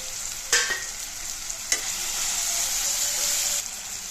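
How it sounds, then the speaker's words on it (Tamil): Crushed garlic and ginger sautéing in a hot pan, a steady bright sizzle with a few sharp spoon clacks as it is stirred, close and fairly loud with no talk. "சேர்த்துட்டு நல்லா வதக்கி விட்டுக்கலாம்"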